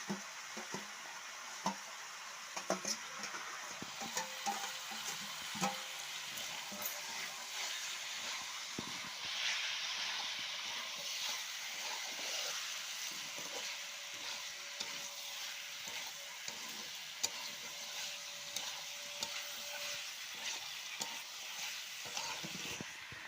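Chicken curry frying in a pan over a clay stove in a village setting as fried onions go in, with steady sizzling, stirring scrapes and a few clinks, close and moderately loud.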